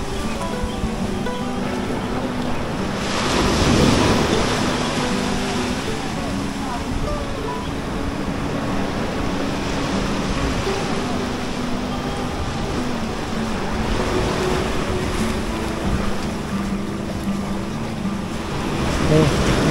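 Surf rolls in at Labuan Sait beach near Uluwatu, Bali, as a steady wash of breaking waves heard from the shore. Wind buffets the microphone throughout, with one louder crash of surf early on.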